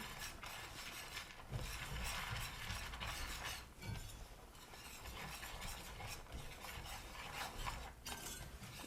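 Cocoa powder is stirred into chocolate sauce in a pan over medium-low heat, giving a faint, steady scraping and rubbing texture with small irregular clicks throughout.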